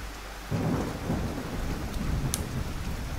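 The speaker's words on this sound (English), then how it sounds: "there is a white flash effect that appears when the thunder hits, with an audio effect" In a Godot-made video game, steady rain hisses, then a deep thunder strike booms in and rumbles on under the continuing downpour, loud and near.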